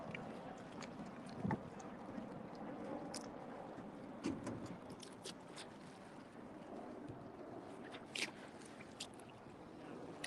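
A sculler's boat coming in to land on the Thames tideway after the Wingfield Sculls race, soft water lapping and wind noise outdoors, with occasional knocks and clunks of the hull and oars.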